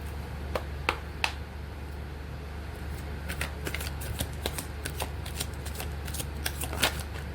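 Playing cards being shuffled by hand, a steady soft riffle with several crisp snapping flicks scattered throughout, close and clear over a low steady background hum.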